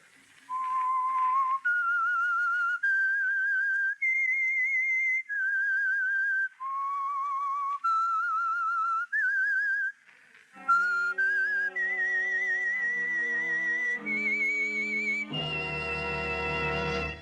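A clear whistled melody of sustained held notes, the Whistler radio theme, followed by the tune continuing with orchestral accompaniment swelling in underneath.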